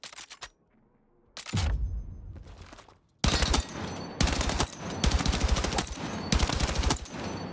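Light machine gun fire in Battlefield 6: a short opening burst, a pause, then loud, near sustained automatic bursts with brief gaps, the last burst running to the end.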